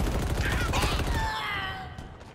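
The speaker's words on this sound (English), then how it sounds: "I heard a grenade." A grenade blast in the shooter game Halo Infinite, loud and close as a dense burst of noise in the first second or so, then fading into a trailing rumble and ringing debris.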